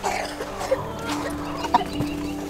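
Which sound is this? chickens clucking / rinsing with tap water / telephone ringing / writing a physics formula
chickens clucking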